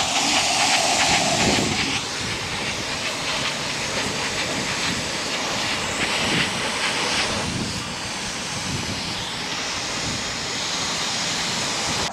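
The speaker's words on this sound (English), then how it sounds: "So now he's hitting it with a little adhesion promoter." Aerosol can spraying adhesion promoter onto a car part, a steady loud hiss that carries on for the whole stretch with little change.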